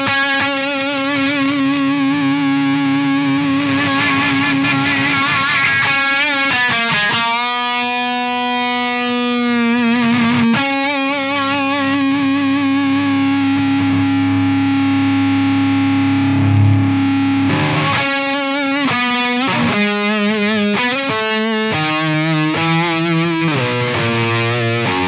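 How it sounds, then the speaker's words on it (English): An electric guitar note is held through a JHS Haunting Mids pedal as the mid-range control sweeps. The distorted tone morphs and warbles, then gives way to a few fresh picked notes near the end, loud and alone. "I'm going to try sweeping through the pedal by just holding a note now so you can hear what it's doing."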